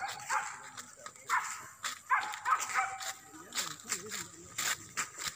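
A dog barks and yips in repeated short bursts during a hunt, heard alongside people talking and calling out in the background.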